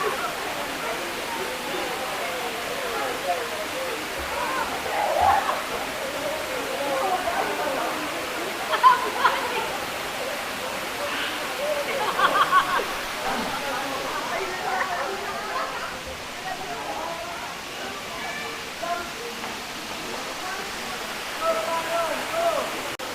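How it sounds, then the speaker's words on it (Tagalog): Lubcon Falls waterfall in Cortes, Surigao del Sur, gives a steady, moderate rush of falling water while voices talk excitedly over it throughout. "The waterfalls."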